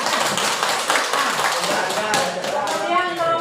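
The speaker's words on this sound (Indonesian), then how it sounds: "Tepuk tangan dulu untuk Anda." A classroom group of students claps for a classmate who has just answered a quiz question, giving a brief, busy patter of hands that carries on steadily throughout with no break.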